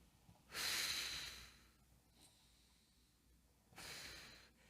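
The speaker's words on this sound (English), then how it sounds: "You want to exhale like you're blowing through a straw, inhale through the nose." Someone demonstrates breathing for a beginner reformer workout, exhaling through pursed lips as if blowing through a straw and inhaling through the nose: two long, close, airy breath sounds with a quiet gap between them.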